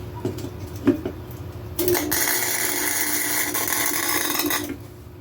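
Steel being welded for an e-bike rack built from a bed platform: a steady, loud crackling hiss that starts abruptly and runs about three seconds before cutting off, with a few lighter taps before it.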